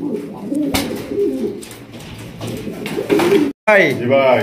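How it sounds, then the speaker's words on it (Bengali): A pair of white Jacobin pigeons coo in soft, rolling bursts, close by, mostly beneath someone talking, with a clearer stretch of cooing near the end. "চমৎকার এক জোড়া জ্যাকোবিন কবুতর"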